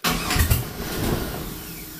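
A car engine cranks on a GOOLOO GP4000 jump starter and sputters as it tries to catch, rough and close at first, then settling into a steady mid-pitched running drone.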